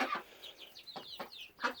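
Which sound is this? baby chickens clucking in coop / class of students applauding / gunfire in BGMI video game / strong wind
baby chickens clucking in coop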